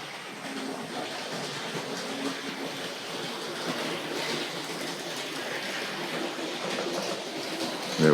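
A Hornby model train, a Kneller Hall locomotive, runs steadily along its track, producing a continuous close rumbling rattle with no pauses and no voices.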